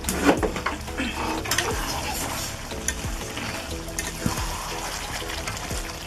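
Frying and stirring in a cooking pan as a little water is poured in, bringing a steady close-up sizzle and splash with scraping stir strokes recurring about once a second.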